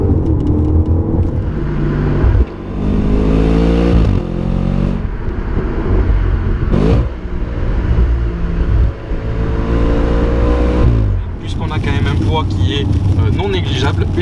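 An Audi RS5 sports car accelerates hard, its engine note climbing repeatedly through the gears with quick breaks at each shift, loud and close throughout.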